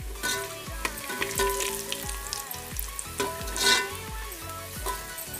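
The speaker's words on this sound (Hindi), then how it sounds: "अब हम इसमें खड़े मसाले डालेंगे, 2 से 3 तेजपात का पत्ता, 2 इलायची है, 1 दालचीनी का टुकड़ा, 2-3 लौंग और थोड़ी सी काली मिर्च।" Whole spices — bay leaves, cardamom, a cinnamon piece, cloves and black pepper — hitting hot oil for veg pulao, a loud crackling sizzle with sharp repeated pops and scraping stirs, no talk.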